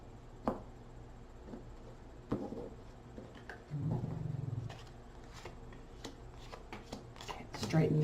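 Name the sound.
shuffling tarot cards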